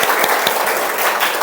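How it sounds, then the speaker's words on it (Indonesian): Classroom full of students clapping together on cue, a dense, steady burst of applause with sharp hand-clap transients throughout, close and loud. "Oke, tepuk tangan semuanya."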